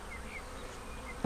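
Honey bees hum steadily around a hive honey super, a close, continuous buzz with a single brief knock near the end.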